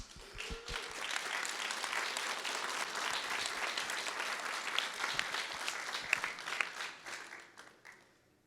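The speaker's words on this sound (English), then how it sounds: "Give them a round of applause." An audience at a behind-the-scenes event for a robotics documentary claps for robotics team members, a dense, lively round of applause with distinct individual claps that tapers off at the end.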